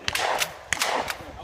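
Two sharp gunshots from a handgun at an outdoor shooting session with friends, spaced about two-thirds of a second apart, loud and close with a brief ringing tail.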